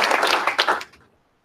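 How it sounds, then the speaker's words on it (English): An audience at a company meeting breaks into brief, close applause that cuts off quickly into silence. "Round of applause for that"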